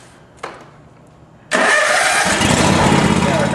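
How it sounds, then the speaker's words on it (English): A John Deere lawn tractor engine, freshly tuned up, cranks with a short click and then catches at about one and a half seconds, settling into a loud, steady close-up idle that runs to the end. "we'll go ahead and start the engine again"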